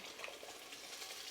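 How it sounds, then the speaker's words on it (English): Spices hit hot oil while cooking a butter chicken or tikka masala style curry, giving a steady, fine crackling sizzle that runs evenly throughout, fairly quiet and close, with no talking. "when those spice hits the oil, this brings out that flavour of the spices"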